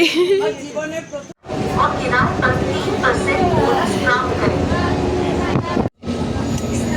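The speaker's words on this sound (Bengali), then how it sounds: "আমরা ট্রেনে করে এখন হাওড়া যাচ্ছি, হাওড়া।" Steady rumbling train noise fills the ride toward Howrah, a near continuous roar with a voice talking over it and two brief dropouts.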